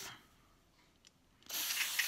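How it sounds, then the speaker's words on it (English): An aerosol can of spray lubricant sprays in one steady hissing burst onto an AR-15 rifle after a short quiet pause with a faint click. "So you can just spray this on, and we'll go ahead and do that."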